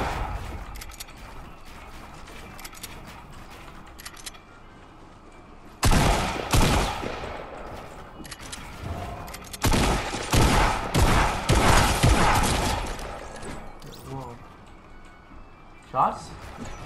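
Rapid bursts of gunfire crackle in clustered volleys, loud against background chatter, with voices talking throughout.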